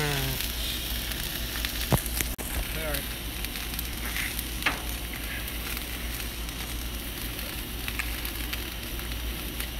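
Food sizzling on a grill at a late-night cookout, a steady, even hiss and crackle close by with occasional sharp pops and faint talk in the background.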